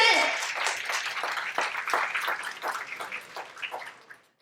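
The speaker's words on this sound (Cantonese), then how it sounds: "俾啲掌聲自己先。" Applause from an audience at a volleyball team's 50th anniversary banquet lunch, a dense, steady wash of many clapping hands that starts strong, keeps up for several seconds and fades out at the end.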